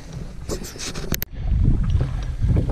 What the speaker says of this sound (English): So we're still paddling